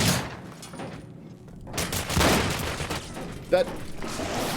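Two PPSh submachine guns taped together fire in a haunted-ship video game, rapid bursts of automatic gunfire with a dense rattling roar that swells and fades, while a voice talks over part of it.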